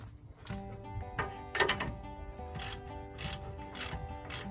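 A ratchet tightens a bolt on a 2012 Ford F-150 FX4 while a 4x4 actuator is being changed. Irregular metallic clicks and clacks sound close by, with a few sharper knocks and no talk.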